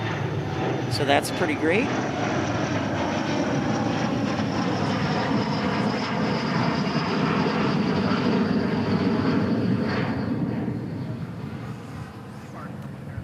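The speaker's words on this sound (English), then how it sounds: "we'll get a lot of departures flying right over our head, just like this E175" An Embraer E175 jet departs overhead at DFW, its engine roar broad and steady with a thin whine, easing off near the end while someone talks briefly over it.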